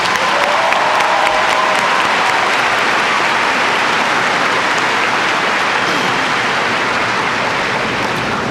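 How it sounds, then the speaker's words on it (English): Sustained applause from a large audience at the 2018 Goose Creek High School graduation ceremony, a dense, steady wash of clapping filling the whole stretch at close, loud level. "if you would join me in giving all of our distinguished guests a round of applause"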